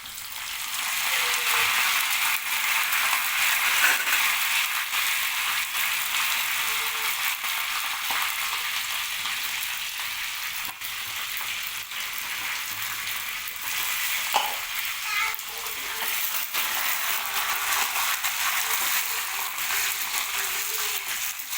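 Steady, loud sizzle of dried red chillies, garlic and curry leaves frying in hot oil for a tempering, continuous hiss throughout with faint occasional stirring, no talking.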